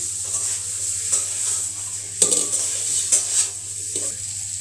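Boiled potato bhaji sizzles steadily in a pan, with a constant frying hiss and intermittent scrapes and clinks of a spatula stirring the potatoes.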